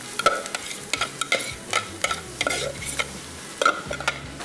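Chicken is stirred into fried onions in a pot, with repeated scraping stir strokes at a steady rhythm over a continuous close sizzle of frying.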